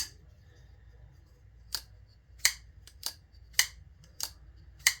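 Folding knife blade on bearings snapping open and shut, sharp metallic clicks spaced roughly a second apart, close and crisp against a quiet background.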